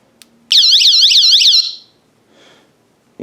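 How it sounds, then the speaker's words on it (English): A loud, piercing electronic alarm from the emergency speaker of an NPET T10-1 solar-powered flashlight warbles in a rapid rising-and-falling siren pattern for about a second, then cuts off, leaving faint noise and a click. "The emergency speaker, you can press that. That's real loud."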